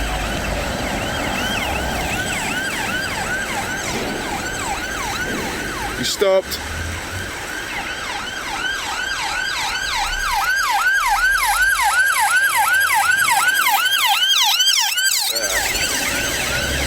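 An ambulance siren wails steadily in a repeating rising and falling pattern as it passes a roundabout in Stirling, Scotland, with road traffic and engine noise underneath and a brief spoken comment nearby.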